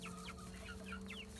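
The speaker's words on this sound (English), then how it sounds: "So here we have the small chickens," A flock of young chickens, some 7 to 8 weeks old and some larger, clucking in repeated short, soft calls close by, with no voices.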